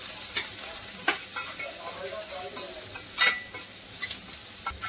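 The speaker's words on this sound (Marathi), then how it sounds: "आता कांद्याला चांगला भाजून घेऊया." Two medium chopped onions fry in a pan with a soft continuous sizzle, while a spoon scrapes and stirs in sharp irregular clinks up close, with no talk.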